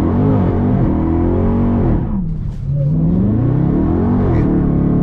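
A Dodge Hellcat Charger fitted with a Direct Connection stage kit holds a loud, steady engine drone as the transmission shifts, with a brief dip in revs near the middle before the engine pulls again.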